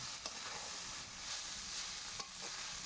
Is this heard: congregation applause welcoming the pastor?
no